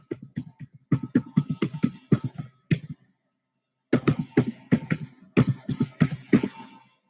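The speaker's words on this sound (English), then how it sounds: "One second, I'm typing it out." Typing on a computer keyboard, a close run of quick, uneven key taps that stops for about a second and then resumes in a second burst.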